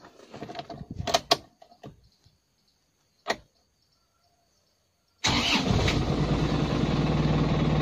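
2008 Isuzu Panther LV engine starting, preceded by quiet clicks and rattles, then firing up abruptly into a loud steady idle with a strong low rumble.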